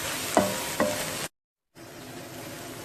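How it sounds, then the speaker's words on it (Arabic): Onions are stirred into a sizzling pan with chicken shawarma fixings, steady frying hiss with two sharp utensil scrapes, then a brief cut to silence before the quieter sizzle resumes. "والحين بحط البصل، اخلط مع البصل شوي"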